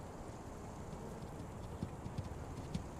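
Horse hooves clip-clopping in a few soft, irregular beats as a horse moves off, faint and fairly distant over steady outdoor background noise.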